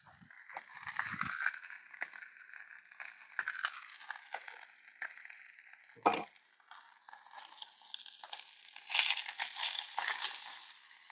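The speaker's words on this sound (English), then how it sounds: "we're just going ahead and cooking these two Hatch green chili sausages up" Two Hatch green chili sausages fry in a pan, giving a steady crackling sizzle with scattered pops and a few louder clatters of handling, heard up close with no talk.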